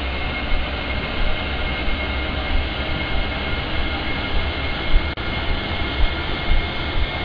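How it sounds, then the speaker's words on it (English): Engine and rotor of a Ka-50 Black Shark helicopter spooling up in the DCS flight simulator, a dense, steady turbine whine and broadband roar holding loud and even throughout. "there goes our rotor, so back inside for a smooth RPM rise"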